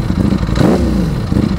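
Ducati Panigale V4 superbike turning over on its self-starter with a long cranking whir and mechanical clatter, close and loud, the engine catching briefly midway.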